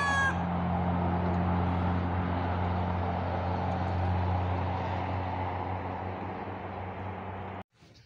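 Chickens cluck and murmur steadily over a low background hum, with a brief crowing note near the start; the sound cuts off abruptly at the end.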